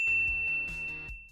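A bright notification bell ding rings out cleanly over soft background music, its tone sustaining briefly before fading.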